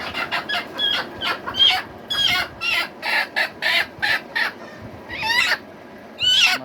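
Native desi chickens cluck and squawk in repeated short bursts while being handled up close, with several loud, agitated calls and no speech.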